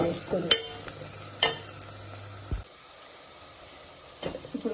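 Potato pieces with curry leaves and coriander fry in a pan for an eggplant and potato curry, a close sizzle broken by sharp spoon scrapes and clinks, then quieter frying before more stirring knocks.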